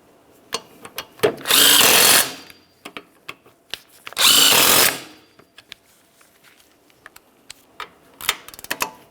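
Power tool snugging up axle bolts on the front axle of a 2015-2020 Cadillac Escalade, heard as two loud whirring bursts of about a second each, with clinks and handling clatter between and after them.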